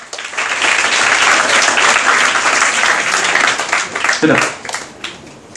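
Audience applause at a talk by Dr TPS for Destination IAS students in Kottayam, a dense, steady clapping from a crowded hall that swells and then fades toward the end, with some voices mixed in.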